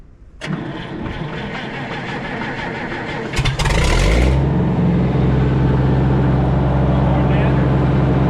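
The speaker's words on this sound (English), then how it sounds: "fire her back up. Give her a little more throttle." A G1050 engine cranks and catches with a rough burst, then settles into a loud, steady run that climbs as more throttle is given and holds a strong drone to the end.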